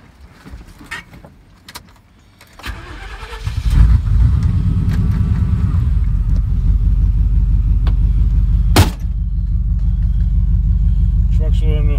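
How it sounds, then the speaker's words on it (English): A truck engine idles loudly and close in hot weather at a curbside, a steady low rumble that starts a few seconds in and keeps running, briefly interrupted by a sharp knock, while someone talks over it. "Truck's running a little warm here."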